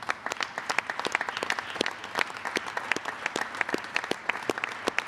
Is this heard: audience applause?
yes